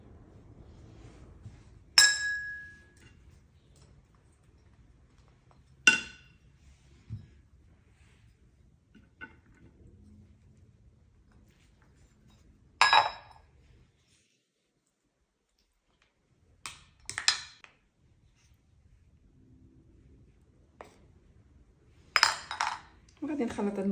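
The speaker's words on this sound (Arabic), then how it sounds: "غادي نجيب هاد المكونات ونخلطهم في هاد التتبيله اللي بقات لي على الدجاج" Olives, ghee and lemon stirred into a chicken marinade in a bowl, heard as sparse spoon clinks and scrapes against the dish separated by quiet gaps.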